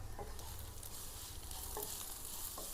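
Ground spices (coriander powder, chilli, salt, garam masala) stirred in a pan over a slow flame for an ivy gourd fry curry, a soft constant sizzle with a few faint scrapes of the spoon; quiet and steady, no voices.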